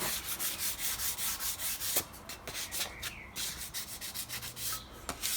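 Hand sanding with 600-grit paper over filler on a classic Mini number plate lamp, a soft, close rhythmic rubbing in quick back-and-forth strokes with a few light taps.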